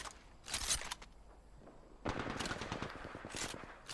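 Automatic weapon fire in Apex Legends, loud rapid bursts with a short pause between them, the second burst longer and denser, played without any voice over it.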